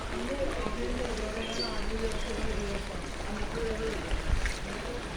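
Floodwater from heavy rain surges through a flooded Chattogram street lined with shops, a constant full-bodied rushing and sloshing current, close and unbroken, with a brief louder splash near the end.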